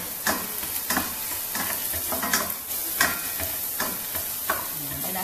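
Garlic frying in a pan hisses steadily up close, with regular scraping strokes of a spoon stirring it roughly every half second.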